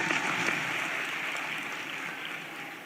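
Steady, dense audience applause fills a government dialogue ceremony at Ravindra Bhavan in Bhopal, a broad even wash of clapping from a large crowd that fades slightly toward the end.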